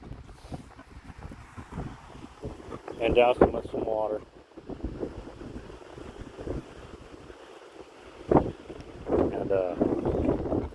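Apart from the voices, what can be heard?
wind blowing outdoors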